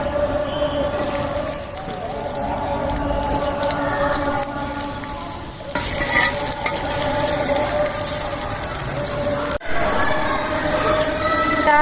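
Onions frying in hot oil in a karahi over a wood fire on a rooftop garden, a steady crackling sizzle with light scraping and clinks running throughout.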